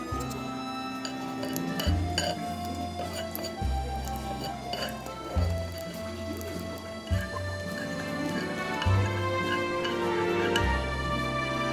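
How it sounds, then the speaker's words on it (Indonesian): Dried shrimp (ebi) dry-roasted in a pan, with close, moderately loud clinks and ticks of a utensil against the metal in uneven strokes over a low steady hum. "Pertama-tama aku akan menyangrai ebi ya supaya wangi."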